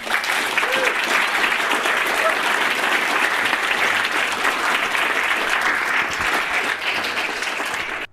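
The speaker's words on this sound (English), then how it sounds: "You're tempting me with validation, with your applause." Steady, dense applause from an audience at a talk on meaning and social justice, sustained at even loudness for about eight seconds before cutting off.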